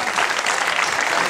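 A theatre audience claps in a brief, dense burst of applause, steady and fairly loud, heard close with no talking over it.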